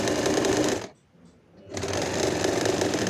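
Sewing machine stitching 4-inch fabric piping for an umbrella frock, a steady loud whirring run that stops for about a second, then starts again and runs on.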